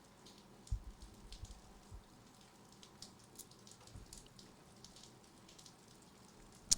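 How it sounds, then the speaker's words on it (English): Rain runoff drips from a roof as faint, scattered taps and drops, irregular and quiet, with a soft wet hiss underneath. "That's the runoff from the roof."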